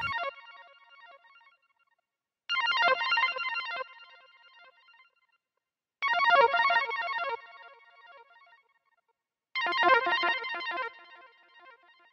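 Analog Lab synth preset called High Places plays an arpeggiated chord pattern in four bright bursts, each rising sharply and decaying into a fading tail, alone with no voices.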